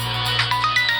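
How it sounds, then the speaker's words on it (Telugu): An office phone rings with a brief electronic ringtone, a loud, close burst of short repeating tonal pulses lasting about a second. "ఇది ఆఫీస్ ఫోన్."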